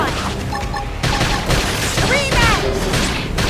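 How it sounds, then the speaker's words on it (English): Rapid gunfire rattles through a combat scene in the video game Xenoblade Chronicles X, with dense overlapping shots and booming impacts. Character voices shout over the shooting. "Topple them with gunfire!"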